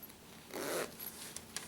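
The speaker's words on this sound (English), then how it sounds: "I want to unzip my zipper head" A single zipper pulled open close by while sewing on a Bernina 880, a quick ripping rasp lasting under half a second, followed by faint fabric rustling and light handling clicks.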